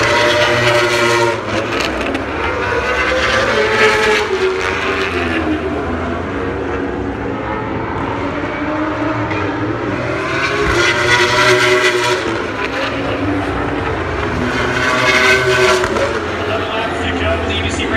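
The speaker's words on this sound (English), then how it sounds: "Superbike race number 1 at the Cycle Gear Championship of Sonoma from Sonoma Raceway" Superbike motorcycles racing at Sonoma Raceway during the Cycle Gear Championship, with loud high-revving engines rising and falling as bikes pass, under continuous commentary.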